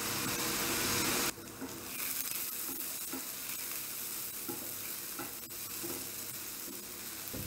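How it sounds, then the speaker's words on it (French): Vegetable garnish sizzles loudly as it is sautéed in a pan for a roast chicken sauce, with steady frying hiss and occasional stirring scrapes. "Donc on va faire revenir toute notre garniture."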